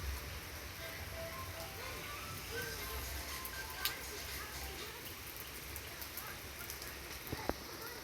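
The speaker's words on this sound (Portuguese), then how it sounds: "Aqui tá chovendo." Steady, soft rain hisses continuously, with scattered faint drips and a couple of small ticks over the wash.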